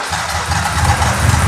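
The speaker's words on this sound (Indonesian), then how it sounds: "Nah, kita menghidupkan mesin sekarang." A 1997 Honda Civic Ferio engine turns over and settles into a steady idle, a continuous low rumble that is loud and close, with no talk.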